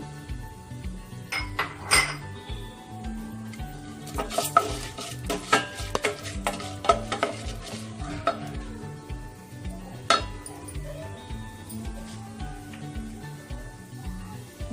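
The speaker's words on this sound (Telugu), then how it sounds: "మనకి పచ్చిశనగపప్పు కొంచెం ఆల్రెడీ ఫ్రై అయింది ఇప్పుడు కొద్దిగా పెసరపప్పు" Chana dal and moong dal frying in a pan, stirred with a utensil that repeatedly clinks and scrapes against the metal over a steady low sizzle, with no talking.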